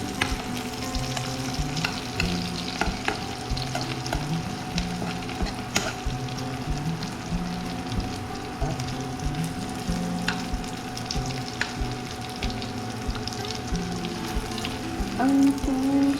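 Food sizzles steadily in a frying pan as it cooks toward golden brown, a continuous close crackle with occasional stirring scrapes and faint kitchen clatter, and a brief tonal sound near the end.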